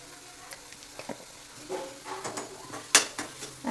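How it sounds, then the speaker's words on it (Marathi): A spoon scrapes and taps in a pan as chopped ridge gourd is mixed with salt and spices, making soft irregular stirring scrapes over a faint sizzle, with one sharp metallic clink near the end. "आपण जरा हे असं पूर्ण चमच्याने असं हे एकजीव करून घेऊया सगळा मसाला आणि घोसाळं"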